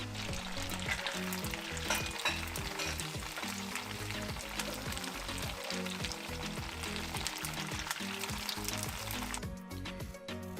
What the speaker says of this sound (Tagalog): hinalo-halo ko lang hanggang maging golden brown